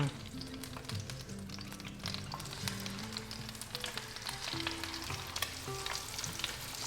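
Flounder pieces frying in a pan of butter and olive oil, a steady close sizzle and crackle running the whole way with a low background hum, no talking.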